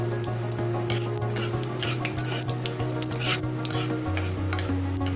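A ladle stirs and scrapes through frying ingredients in a pan while chitranna is prepared, producing steady rasping strokes over a constant low sizzle. A low tonal hum runs underneath and no one speaks.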